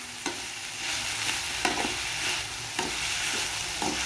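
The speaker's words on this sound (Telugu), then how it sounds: "కరివేపాకుని ఇందులోనే వేసుకొని దీన్ని కూడా ఫ్రై చేసుకుంటాం" Curry leaves frying in a pan with capsicum chicken ingredients, a steady crackling sizzle broken by a few sharper stirring scrapes, close and continuous with no talking.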